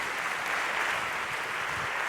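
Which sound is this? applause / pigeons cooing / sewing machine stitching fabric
applause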